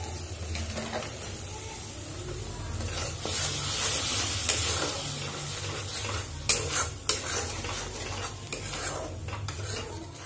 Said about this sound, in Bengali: মশলা ভাজা হয়ে গেছে ভালো করে